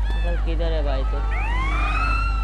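A police car siren wails in GTA San Andreas, a loud sweeping tone rising and falling over a low engine rumble, while someone talks over it briefly at the start.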